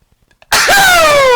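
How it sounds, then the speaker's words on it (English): A single loud, abrupt burst of breath near the microphone, like a sneeze, following a few faint quiet sounds. "I hope you enjoy my sneeze"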